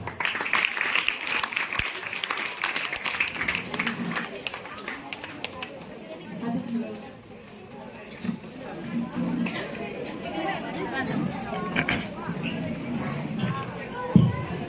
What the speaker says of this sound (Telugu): ఈ క్లాప్స్.